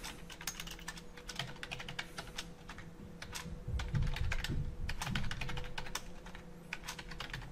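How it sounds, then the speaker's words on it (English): Rapid, close clicks of a computer keyboard as someone types a password, keystrokes tapping in irregular bursts for several seconds with no speech. "and then type your password"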